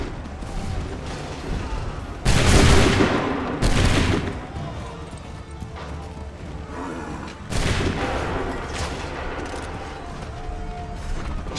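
Musket volleys crash out in Assassin's Creed III, with two or three loud, broad bursts of massed gunfire standing out over a continuous backdrop of battle noise.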